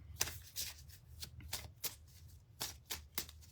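Oracle cards being shuffled in quick riffling bursts, a series of crisp papery flutters repeating every half second or so, close up with no talking.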